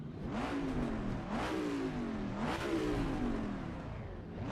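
Hard revving from a racing car engine in the sim game Assetto Corsa Competizione, pitch climbing and dropping in about three sustained pulls, loud and close-up with no voices.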